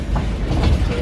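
A passenger train on a long overnight route between Mandalay and Yangon rumbles steadily along the rails, with a continuous low, loud rolling noise and faint rhythmic clatter from the carriages throughout.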